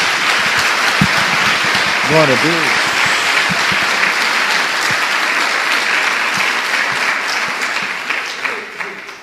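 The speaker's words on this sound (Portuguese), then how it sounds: "Dê uma salva de palmas a Jesus." Congregation applause at a Brazilian evangelical church service, a loud, sustained wash of clapping from many hands while a voice speaks over it and a few brief sung or called-out tones rise above the crowd.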